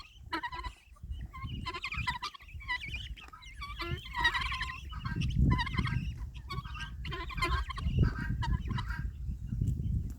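Backyard chickens and guinea fowl cluck and chatter continuously nearby, with overlapping calls and sharp squawks bursting out over a steady, busy flock murmur.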